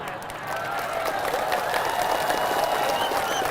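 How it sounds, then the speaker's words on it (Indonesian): An audience at an Islamic religious lecture breaks into sustained applause, a steady wash of many hands clapping at moderate loudness with faint crowd murmur beneath it. "Banyak yang tepuk tangan, tak jadilah."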